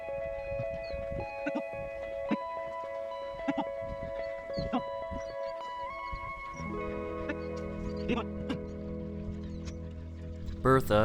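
Goats bleat a few times with harmonic cries, amid shuffling hooves and background voices, with a steady hum building toward the end.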